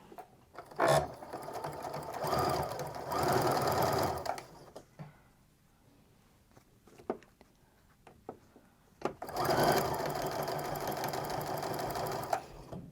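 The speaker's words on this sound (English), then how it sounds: "we're going to put it underneath our sewing machine, set up my 1/4 inch stitch, and sew away" A sewing machine sews a quarter-inch seam through fabric in two sustained bursts of rapid, whirring stitching, separated by a quieter pause with small clicks and handling sounds.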